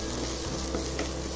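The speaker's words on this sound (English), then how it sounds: "once you start sauteing the garlic with small onion" Garlic and small onion sauteing in a pan, with a steady, even sizzle that holds at a moderate level throughout the short stretch, without any voices.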